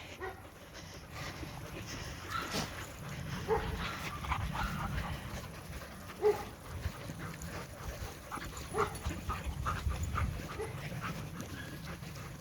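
A dog panting steadily during an off-leash recall training walk outdoors, with rhythmic breathing and small snuffles close by and no talk.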